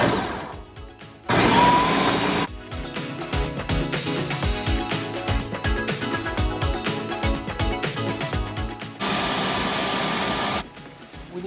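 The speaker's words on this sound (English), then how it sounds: "I am going to blend my fruits. I don't want it smooth, so I'm just going to do pulse." Mixed fruits for a Jamaican Christmas fruit cake pulsed in a blender: two loud, close whirring bursts of about a second each, separated by a stretch of rhythmic background music.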